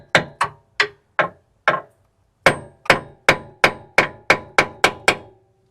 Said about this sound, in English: I'm just going to grab my hammer